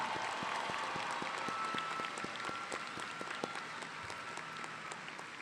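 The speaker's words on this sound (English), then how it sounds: "let's give them another round of applause to thank them for their service." A high school graduation ceremony audience gives a sustained round of applause, dense and steady clapping from a large crowd heard at moderate distance, tapering slightly toward the end.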